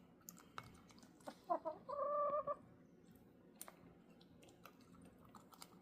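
A pet chicken kept inside a house in Canada gives a short run of soft clucks and one drawn-out call, faint and close in a quiet room amid small scattered taps.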